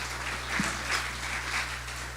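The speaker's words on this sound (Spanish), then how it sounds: "así que quiero pedir un aplauso" Audience applause at a talk's graduation recognition: faint, steady, diffuse clapping that spreads evenly through the whole stretch, with a constant low electrical hum beneath it.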